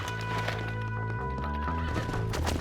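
Horses' hooves in the Western game Red Dead Redemption clatter in a quick clip-clop under music and game effects, with a horse whinnying and a busy mix of action sounds over a short span.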